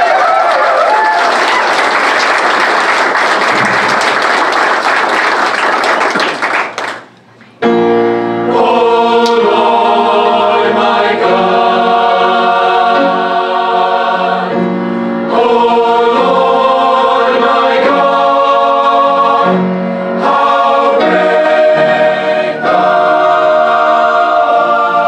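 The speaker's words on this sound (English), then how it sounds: "we should be applauding them all the preparation" Loud, dense applause from the audience of the Master's Chorale at Master's University fills the first seven seconds, then cuts off to a brief hush before sustained, harmonic choral music begins.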